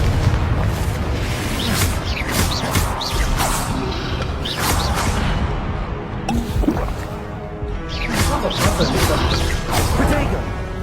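Confringo fire-blast spells burst repeatedly in the Hogwarts Legacy video game, with booming whooshes and crackling impacts across the whole stretch, loud and busy.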